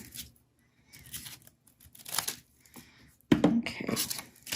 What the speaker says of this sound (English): I'll actually group this up here so I can do a single cut. Stack that and then cut another one.